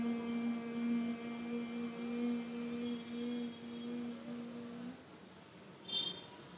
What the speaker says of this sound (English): produce the sound of hum